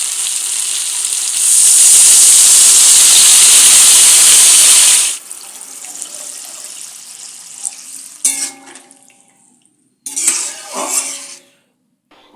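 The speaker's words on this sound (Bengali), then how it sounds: "এবার আমি এর মধ্যে অ্যাড করব জল।" Water pours into a pan of chilli chicken, a loud steady hissing rush for several seconds that then gives way to quieter splashing and stirring clatter, with no one speaking.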